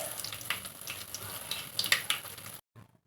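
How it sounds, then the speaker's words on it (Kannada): Crushed garlic frying in hot oil for a tempering with mustard seeds, cumin and curry leaves, a steady close crackling sizzle with a few sharp pops, cutting off abruptly near the end. "1 ಜಜ್ಜಿರುವಂಥ ಬೆಳ್ಳುಳ್ಳಿನ ಹಾಕೋತಾ ಇದ್ದೀನಿ."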